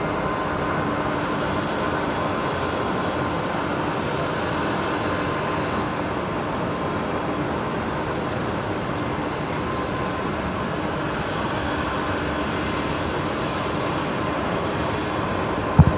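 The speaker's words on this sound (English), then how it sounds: "Qantas 1911 heading off to Canberra tonight. Just about to rotate, actually." A Qantas airliner bound for Canberra takes off from a Brisbane Airport runway at night, sending out a continuous, distant, broad jet roar that holds steady throughout.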